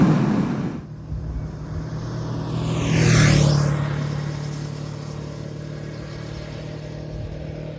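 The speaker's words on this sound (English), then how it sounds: "I've just brought the bike out to some back country lanes just to give it a little bit of a run" A motorcycle rides along back country lanes on a Saturday afternoon, its engine droning steadily under wind rush from the ride, rising into a louder pass-by swell around the middle before settling back to an even hum.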